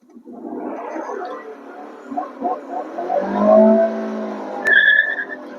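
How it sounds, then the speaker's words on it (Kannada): A Honda City accelerates hard in first gear, its engine note climbing as the wheels spin, with a sharp tyre chirp near the end; the sound is moderately loud and close. "ವೀಲ್ ಸ್ಪಿನ್ ಸಹ ಕೇಳಿಸಿರ್ಬೋದು ನಿಮ್ಗೆ."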